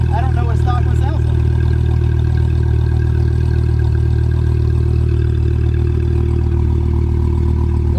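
A loud, steady Dodge Viper engine rumble without exhaust runs throughout, deep and continuous like an idling sports car, with brief voices near the start.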